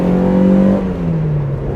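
Engine of a 1995 Mazda MX5 (NA) accelerating, a brief, loud, steady drone whose pitch holds and then drops slightly as it shifts, heard close with no talking.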